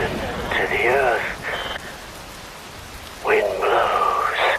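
Steady rain hisses as a wash beneath the Metal Gear Rising scene, while someone speaks over it in two phrases.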